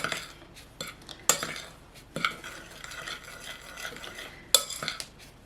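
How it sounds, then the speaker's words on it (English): A metal spoon stirs and scrapes through a bowl of baking soda and kaolin clay powder, producing irregular gritty rubbing strokes punctuated by several sharp clinks against the bowl, close and fairly quiet with no talking. "I'm going to just quickly use a spoon and kind of mix this together so it's dispersed evenly"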